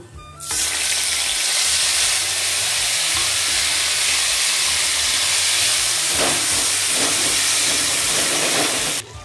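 Ground spice paste drops into hot oil already tempered with bay leaf and whole cumin, bursting into a loud, steady steamy sizzle that runs for several seconds and then cuts off.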